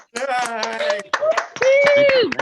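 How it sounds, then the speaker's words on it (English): Scattered hand clapping mixed with several overlapping voices comes through unmuted microphones at an online literacy awards gathering. People cheer and talk throughout the brief, fairly loud burst. "let's give our Community Partner of the Year a huge round of applause"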